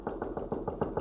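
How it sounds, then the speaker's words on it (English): Knocks on a door as a radio drama sound effect, a quick run of about eight evenly spaced dull raps, close and moderately loud, with no voices. "I am on my bed when I hear a knock on my door."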